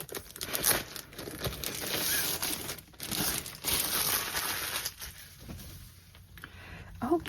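Plastic bags from a Diamond Art Club diamond painting kit are torn open, with crinkling, crumpling and ripping bursts close by, interspersed with a person talking.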